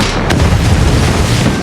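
A single deep, rumbling boom fills the scene as an explosion effect in a zombie-horde battle story. It is loud and broadband, with a sharp crack near the start and then a sustained roar that barely fades over under two seconds.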